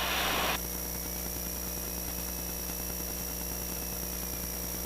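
A light airplane engine hums low and steady at near idle on a landing approach, a constant droning tone inside the cockpit after a brief burst of rushing noise at the start.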